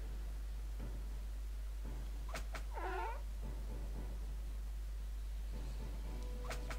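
Cat in the Dofus video game giving a single short wavering meow partway through, faint under a steady low hum, with a few soft clicks and thumps around it.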